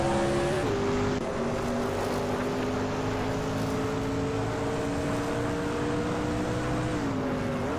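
Race cars roar in a racing video game, a steady droning engine tone with smoothly shifting pitch sustained throughout, moderately loud with no talk over it.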